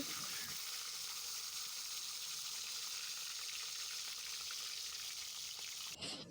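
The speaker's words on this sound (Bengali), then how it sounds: "এবারে আমি এক এক করে মাছগুলো ভাজার জন্য কড়াই দিয়ে দিয়েছি।" Fish pieces fry in hot oil in a kadai wok, a dense, even sizzle that holds steady and close throughout, ending with a short clatter.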